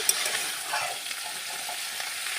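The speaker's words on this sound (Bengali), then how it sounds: "ভালোভাবে কড়াইতে নেড়ে নেব" A wok of bottle gourd leaves cooking with a rohu fish head and fish innards is stirred over the heat, giving a steady, close sizzle with scraping and rustling strokes throughout and no voices.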